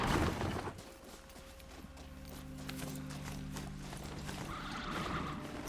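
A robot horse in the Horizon Zero Dawn video game trots with steady hoof clip-clops, a mechanical hum sustained beneath them, loud and close, with no voice over it.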